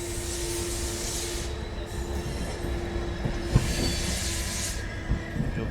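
Rajasthan Sampark Kranti Express train halted at a station, with a steady hum, hiss and two swells of high squealing wheel noise, and a couple of sharp metallic knocks near the end.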